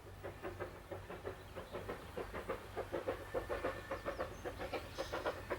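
A Vale of Rheidol Railway steam locomotive climbs through wooded hills, its exhaust puffing in a steady, quickening rhythm of distinct chuffs, moderately close, with a low rumble beneath and no talk.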